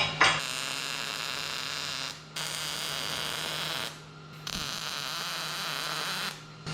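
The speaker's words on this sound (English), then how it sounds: "We'll weld that." Welding on a 1968 IH Travelall, heard as a steady electric buzz with a strong hum that runs in long bursts of about two seconds, separated by brief pauses as the arc stops and restarts.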